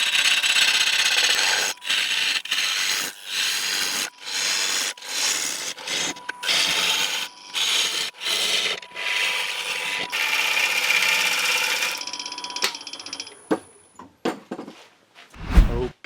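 A 5/8 inch bowl gouge cuts into a wooden bowl spinning on a lathe just under 1,000 RPM, producing loud, repeated rushing scrape passes broken by short pauses, ending in sparse, quieter cuts and a closing thump.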